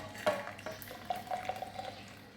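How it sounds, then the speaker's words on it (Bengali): A boiled drink being strained from the pot: soft pouring trickles and light metallic clinks and scrapes at close range, short and fairly quiet. "এখন উঠিয়ে আমি ছেঁকে নেব।"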